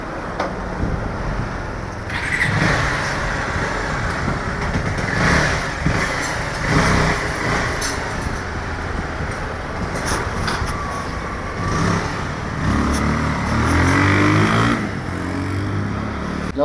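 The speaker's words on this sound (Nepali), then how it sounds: "हाम्रो बाइक चाहिँ रेडी भइसक्यो केटल चाहिँ अब टेस्ट राइड गर्ने भन्दा छ" Repaired motorcycle engine running steadily on a test ride, a continuous broadband road and engine drone with shifting loudness throughout, no talking.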